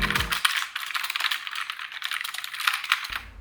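Rapid typing on an iMac G3 keyboard, a dense run of close, crisp plastic key clicks filling the clip, with a brief low thud at the start and end.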